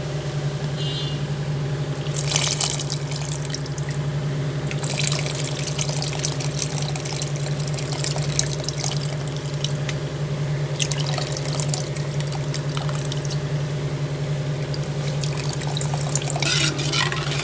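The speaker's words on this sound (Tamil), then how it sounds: "इप्पो वंदु नम्ब पुळि ऊत्तिक्कलाम" Tamarind water pours into a pot of South Indian fish curry (meen kuzhambu) as a steady, close trickle and splash of liquid that lasts throughout, with faint clinks now and then.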